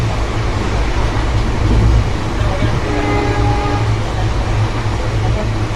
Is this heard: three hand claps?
no